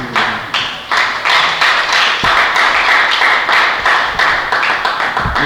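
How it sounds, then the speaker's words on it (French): Audience applause at a JCI-Togo launch event, heard as loud, rhythmic clapping in a steady beat, close and continuous throughout. "Est-ce qu'on peut les applaudir?"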